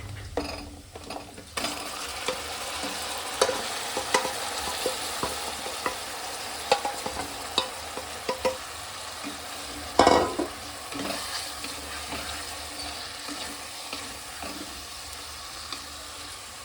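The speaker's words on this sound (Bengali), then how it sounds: "এবার আমি মেখে রাখা চিকেনটা দিয়ে দেবো" Marinated chicken dropped onto lightly browned fried onions in a pan, sizzling steadily up close while a spatula scrapes and clicks against the metal in irregular strokes, with one louder scrape partway through.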